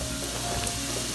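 Sauteed vegetables sizzling in a stovetop pan, a steady dense crackling hiss that runs without a break throughout, close and fairly loud.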